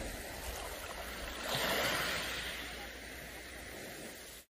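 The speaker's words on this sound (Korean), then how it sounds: "그 파도에서 파도에 부딪히는 자갈의 소리가 아주 청량하게 들립니다." Waves wash over a pebble beach on the island of Baengnyeongdo, a continuous hissing surge that swells into a louder rush midway and then recedes. The sound is moderately faint and steady, with no voices.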